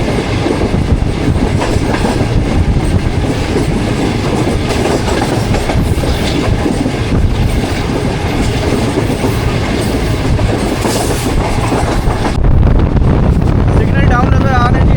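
33 Up Pak Business Express train travelling from Karachi to Lahore, a loud continuous roar of wheels on rails with rattling carriages and wind buffeting, heard close from on board.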